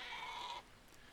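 A sheep bleats once in the Dawn of Man video game, a short wavering cry that fades against a quiet ambient backdrop.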